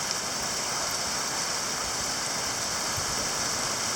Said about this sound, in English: No hail, because it's just pouring out, as you can sort of tell there.